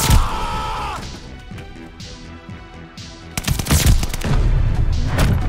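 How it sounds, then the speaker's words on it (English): Sniper rifle shots in Black Ops 3 multiplayer, sharp loud cracks bursting out amid dense game sound effects, with a quieter gap between the opening blast and a louder cluster toward the end. "Two shots to the head."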